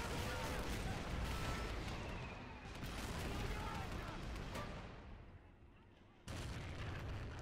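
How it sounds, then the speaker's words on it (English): Heavy Mörser siege mortar firing in the World War II strategy game Men of War: Assault Squad, with loud continuous battle noise of booming blasts and gunfire throughout, dipping briefly before a sharp renewed burst near the end. "There, Mörser just fired again."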